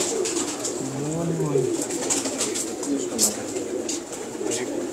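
Pigeons cooing in a breeder's loft, low rolling coos repeating under steady background chatter and faint chirps, with people talking nearby.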